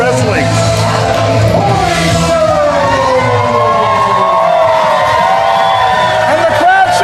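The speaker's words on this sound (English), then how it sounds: "the crowd showing their appreciation" Wrestling crowd at an independent show in Portland cheering loudly and continuously after a tag-team victory, with whoops and whistles rising over a dense, steady roar, and a voice talking beneath it.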